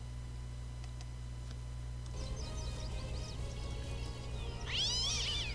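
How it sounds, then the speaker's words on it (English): A cat meows in a video game, first faint chirpy calls, then one louder drawn-out meow near the end, set against a steady low game hum with no talking. "I don't need that cat."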